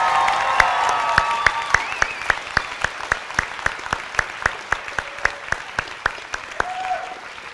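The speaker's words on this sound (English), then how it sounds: "If I could get one more round of applause for the CCP graduates" At a winter graduation ceremony for GAP/CCP graduates on the West 20th Street campus, the crowd claps in a loud, evenly paced rhythm over a wash of scattered applause and light cheering.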